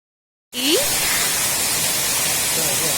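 Nehu Falls in Meghalaya pours down in a loud, steady broadband roar that starts abruptly after half a second of silence and holds close and unbroken.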